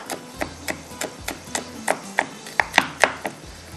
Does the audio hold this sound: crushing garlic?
yes